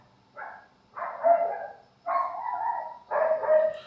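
A dog gives four barks, the first short and the rest longer and drawn out, close and fairly loud, evenly spaced with brief gaps and no one talking over them.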